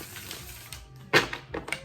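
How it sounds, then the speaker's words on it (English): Tarot cards are shuffled by hand, producing a few quick, crisp riffling bursts close up, the loudest snap near the middle, over a quiet room with no talk. "So one more shuffle"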